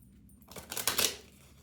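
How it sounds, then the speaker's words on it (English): Tarot cards shuffled in the hands during a reading, one short riffling burst that swells and fades within about a second, close and fairly quiet. "One more shuffle."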